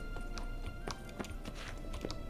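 Hooves clip-clop in an irregular rhythm over a low rumbling background hum in The Witcher 3: Wild Hunt, fairly quiet and close, with no clear whinny standing out.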